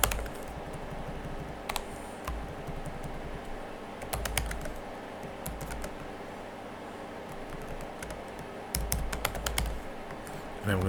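Code being typed on a computer keyboard, close and fairly quiet clacking keystrokes in irregular bursts, with a few louder key presses and a low background hum.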